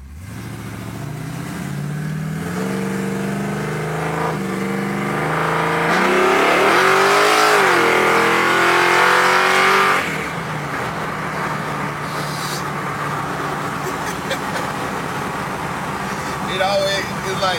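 A convertible car engine revs up and holds a rising roar, then drops back to a steady idle, with people talking over it throughout.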